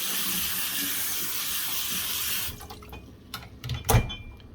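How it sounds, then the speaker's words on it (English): Split peas are drained in a home kitchen for pea and ham soup: a steady rushing pour of water runs for about two seconds, then stops, leaving scattered drips and a couple of sharp knocks. "I've also got my split peas here, which I can drain."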